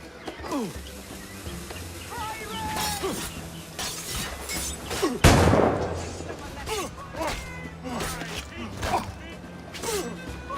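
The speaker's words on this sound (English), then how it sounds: "Grenade! Out!" A grenade goes off in Assassin's Creed IV, a sharp loud blast with shattering debris in the middle of a chaotic fight, while voices shout and yell throughout.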